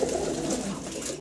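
A pair of fancy pigeons coos in low, rolling calls throughout the short stretch, close and fairly clear against a soft background hiss.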